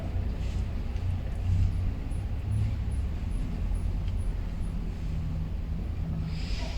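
Car out on a driving track, its engine a low continuous rumble throughout, close and steady with wind buffeting, no clear surge in revs.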